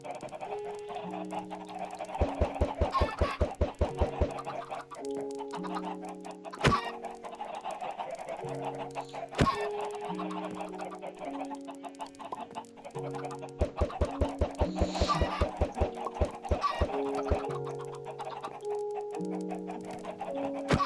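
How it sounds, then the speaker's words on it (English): Chickens cluck in a modded Minecraft-style video game: bursts of rapid, close clucking come and go in several runs, over a sustained melodic tone that continues between them. "I don't want any chickens roaming around my base."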